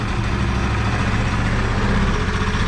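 A Chinese YB-150 scooter engine running during repair, a close, steady low idle drone that holds evenly with no talk over it.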